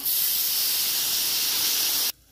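Water poured into a hot pan of frying spices (cumin, turmeric and chili powder) for a Bengali broad bean and prawn curry, giving a loud, steady steam hiss and sizzle that cuts off sharply at the end.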